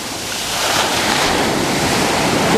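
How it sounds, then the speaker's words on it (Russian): Stormy sea surf crashes and roars loudly along the shore, a continuous heavy wash of breaking waves mixed with gusting wind noise, building slightly over the span. "записать его шум, шум прибоя"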